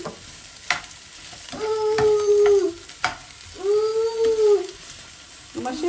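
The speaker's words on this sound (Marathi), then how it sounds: "मातशें फ्राय करून घेता." Onions and chillies fry and get stirred in a pan for tuna toast, a low sizzle with scraping stir strokes, interrupted by drawn-out tonal whining sounds rising and falling over the cooking.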